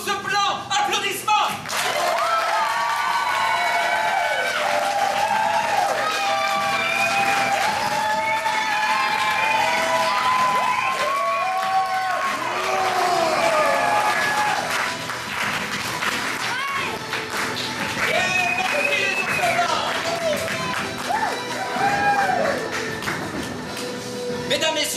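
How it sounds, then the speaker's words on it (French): A live improv theatre audience applauds and cheers loudly and continuously as a team is introduced at a show in the Espace, with dense clapping, whoops and a few laughs throughout. "Applaudissements!"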